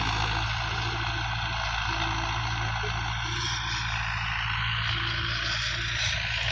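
A Belarus MTZ 50 tractor pulling a 5-tine chisel plough through a field gives a loud, steady, continuous diesel engine drone with heavy low rumble and wind noise throughout.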